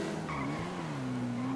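A motorbike brakes hard and skids, a drawn-out tire squeal with a wavering pitch that holds under a steady, loud engine and road roar throughout.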